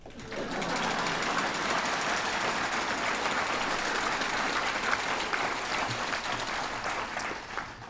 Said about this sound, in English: Now would be a good time to clap.